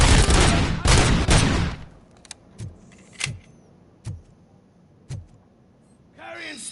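Robocop video game gunfire opens with about two seconds of dense, loud automatic fire. Several single sharp shots follow at spaced intervals, and a rising mechanical whir closes it out.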